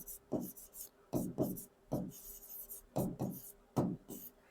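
Writing during a lesson, with chalk or pen strokes scratching in short rhythmic bursts, close and clear, repeating every second or so with no voice over them.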